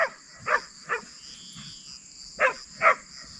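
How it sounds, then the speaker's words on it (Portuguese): A border collie barks at a cow in the distance, five sharp barks spaced irregularly over a constant background of insect or cricket trill, with no talking. "Tá lá latindo com a vaca, ó."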